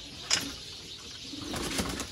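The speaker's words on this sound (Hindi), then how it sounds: "ये दोस्तों नर है सियालकोटी छत वाले कबूतर" A male Sialkoti roof pigeon gives a short burst of wing flapping, then soft low cooing, close by and fairly quiet over a light background hiss.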